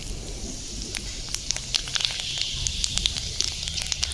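Panch phoron spices sizzle in hot oil with a steady crackling hiss and many small sharp pops, close and continuous, for a Bengali sabudana khichdi.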